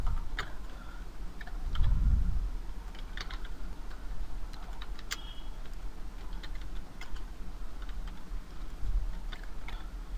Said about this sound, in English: Sorry for typing slow.